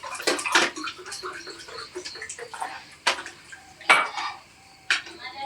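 Plates and dishes clatter and clink during washing, with sharp irregular knocks and scrapes against a background of running water, close and moderately loud.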